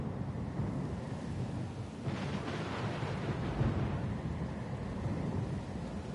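A thunderstorm at sea: a continuous roar of wind and churning waves, with a low rumble of thunder swelling in the middle, dense and unbroken.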